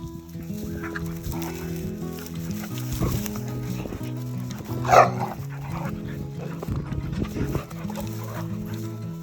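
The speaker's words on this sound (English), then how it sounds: "These two dogs would be banned in Australia." Two dogs, one a pit bull that is half dingo, vocalize up close with barks and whiny yelps, with a louder burst midway through over a busy background.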